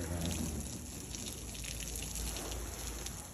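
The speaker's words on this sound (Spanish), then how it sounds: "Por eso llega un chingo de agua" Irrigation water arriving at night, a steady rushing gush close by with a continuous splashing trickle and no voices.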